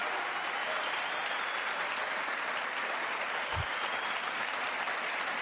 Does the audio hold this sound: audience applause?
yes